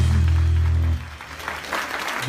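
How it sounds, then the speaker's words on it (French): A church congregation applauds at an international convention during praise and worship, clapping blending with loud sustained music at first, then continuing more sparsely and unevenly once the music drops away. "Nous applaudissons le Seigneur."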